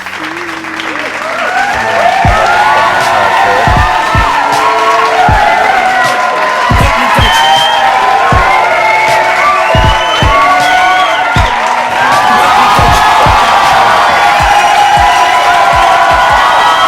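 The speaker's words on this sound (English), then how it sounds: "Thank you for the round of applause." Loud applause from a podcast audience with cheering and whoops rising over it, starting after a quiet opening and sustained dense clapping throughout, with sharp low thumps scattered through.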